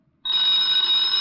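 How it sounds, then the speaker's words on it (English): An old-time radio detective drama telephone bell rings sharply after a brief silence, one continuous loud ring close by, with no talk over it. "Get the phone, Walt."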